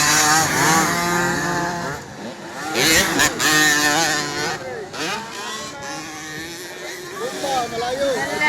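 50cc motocross motorcycles racing at the Valencia City, Bukidnon motocross event, several small two-stroke engines revving and whining up and down in pitch as they pass close by, with people talking over the noise.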